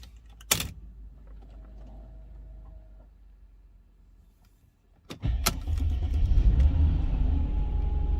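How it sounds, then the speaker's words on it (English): A Mercedes M112 engine with fresh spark plugs fires up from cold after a quiet stretch, a sharp start followed by a loud, steady high idle rumble close by. "It's a cold start, so I expect the high idle speed"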